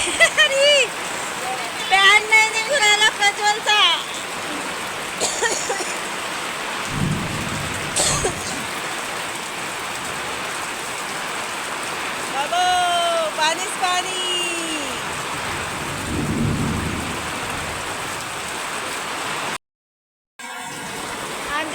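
Steady heavy rain hisses outdoors, with thunder rumbling low and long beneath it, while people talk intermittently over the downpour.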